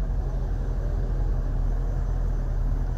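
A heavy truck rumbles nearby with a deep, steady engine drone, a loud low-pitched growl that holds evenly for a few seconds.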